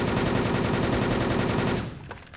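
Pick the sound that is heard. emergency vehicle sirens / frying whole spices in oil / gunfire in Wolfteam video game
gunfire in Wolfteam video game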